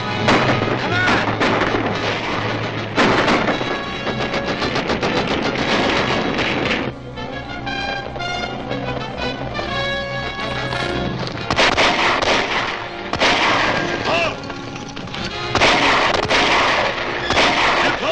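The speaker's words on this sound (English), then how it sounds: "Gunfire." Rapid bursts of gunfire crackle and pop repeatedly in a 1941 Captain Marvel film serial, loud and dense with short pauses, mixed with a thumping score and occasional voices.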